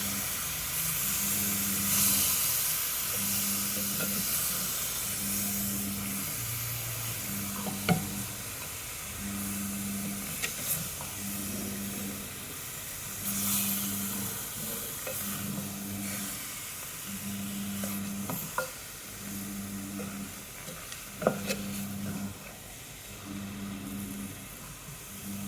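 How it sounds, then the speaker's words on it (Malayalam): Chicken curry being stirred in a pan gives a long, continuous sizzle and steamy hiss with scraping stir strokes, while a regular pulsing tone repeats throughout. "ഇളക്കി കൊടുക്കാം."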